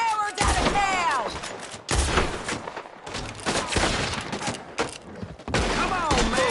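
Dense, loud gunfire from a frantic shootout in Red Dead Redemption 2, rapid overlapping shots and booms filling the scene almost continuously, with shouting voices mixed in.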